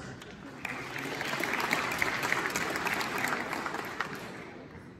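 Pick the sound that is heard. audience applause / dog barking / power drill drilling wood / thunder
audience applause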